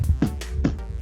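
Voice imitating a kick drum in beatboxing: a few quick, close, low punchy lip bursts in an uneven rhythm within about a second.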